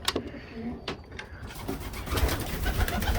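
Soft, close cooing of pigeons in a breeding loft, heard over a rough, steady background rumble.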